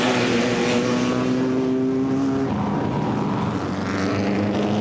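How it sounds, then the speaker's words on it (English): A historic racing car, number 14, crosses the start-finish line at Goodwood Members' Meeting. Its loud engine roars past close by, and the pitch drops sharply midway as it passes and pulls away. "That's Julien Majou with the number 14 going over the start-finish line"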